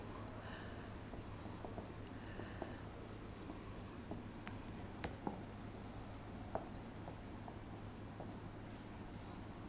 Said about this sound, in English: I am writing in short.